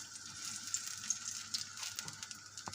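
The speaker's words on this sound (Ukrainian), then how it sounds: "І так прожарюються наші морквяники." Carrot patties coated in semolina frying in a skillet, a gentle, fairly quiet crackling sizzle with small pops and a soft clink near the end.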